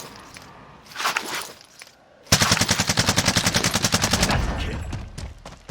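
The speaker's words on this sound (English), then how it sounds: "Yeah, he's shooting at me now." Rapid automatic gunfire in Call of Duty: Warzone, a steady close string of evenly spaced shots that bursts in suddenly after quieter distant firing and runs for several seconds.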